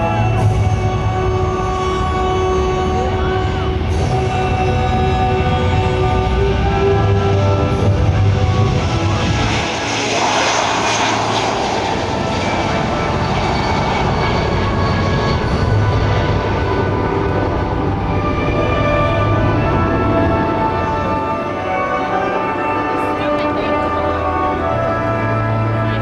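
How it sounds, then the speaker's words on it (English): Fixed-wing aircraft with Pratt and Whitney engines roaring through a maximum performance takeoff at an air show, a loud sustained engine rumble that swells and shifts in pitch across the whole stretch, with no talk over it. "Now watch this maximum performance takeoff."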